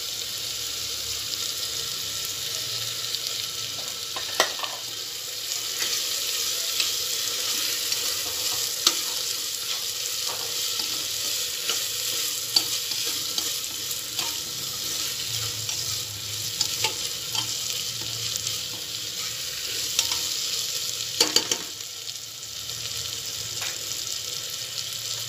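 Chopped tomatoes and chili stir-frying in a pan for moong dal masala rice, a steady close sizzle with repeated scraping and clinking of a stirring spoon throughout.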